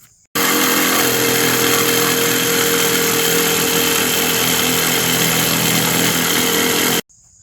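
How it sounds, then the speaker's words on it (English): A power drill and jigsaw cut out a vanity countertop in one loud, continuous motorized whine that runs steadily for about seven seconds, then stops abruptly. "we're going to drill a hole right down in here to get our jigsaw down in here so we can cut this guy out"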